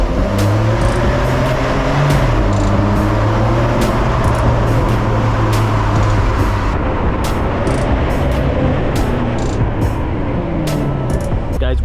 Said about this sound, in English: Let's take the Carrera out for a little POV drive.